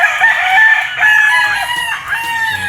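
At a game farm with mature gamefowl, a rooster crows loudly and close by in a long, drawn-out call, with other fowl clucking and calling in the background.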